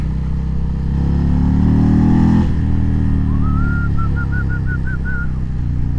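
A 2020 Indian Chieftain Darkhorse 116 motorcycle with a Stage 2 tune runs loud and close with a steady engine rumble, the note swelling and then dropping off around the midpoint. A faint high warbling chirp follows near the end.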